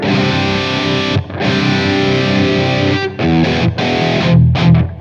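Heavily distorted electric guitar chords through a MESA/Boogie JP-2C amplifier, using ninths and open strings, ring out loud and sustained, with short breaks between strummed chord changes.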